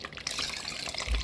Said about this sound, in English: I'll add a bit of water in it